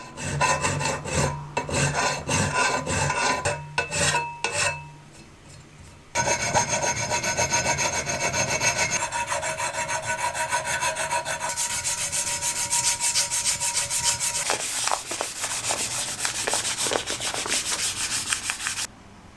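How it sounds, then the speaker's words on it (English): A bike fork leg is polished by hand in steady, rhythmic rubbing and scrubbing strokes, close and fairly loud. The strokes pause briefly, then go on in a continuous run of quicker passes. "I then spent more time polishing it up and it matches the frame nicely."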